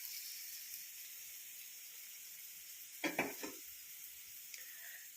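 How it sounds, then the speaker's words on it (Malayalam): Dried fish frying in a pan, a faint steady sizzle with a short burst of louder crackling and scraping midway as the pieces are stirred. "മീൻ മൂത്ത് വരുന്നുണ്ട്."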